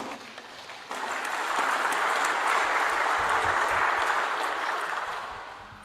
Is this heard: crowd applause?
yes